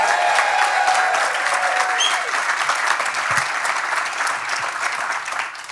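A large concert audience applauds loudly as a band takes the stage, a dense, continuous wash of clapping with scattered cheers that holds steady for several seconds.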